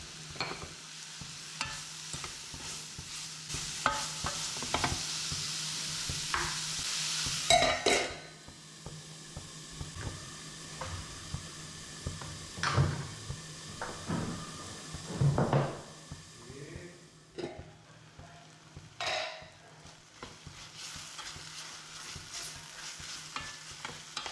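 Mushroom masala sautés in a pan, a soft sizzle under repeated scraping and clanking of a spoon stirring against metal, in irregular bursts with quieter gaps between them.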